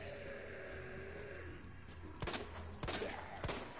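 Gunfire in the Resident Evil 2 Remake video game: three sharp shots at roughly even intervals, each a brief broadband crack over a steady background of game ambience and music.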